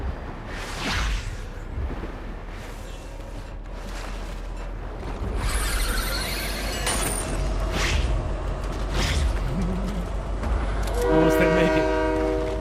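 A train rushes past in the Fortnite video game, a broad rumbling whoosh of rail cars rising and swelling loud and close, with a tonal train horn sounding near the end.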